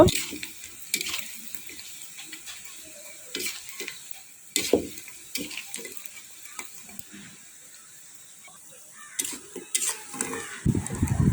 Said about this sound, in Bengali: এ কারণে ধৈর্য সহকারে লো হিটে এগুলো ভালোভাবে ভেজে নিব।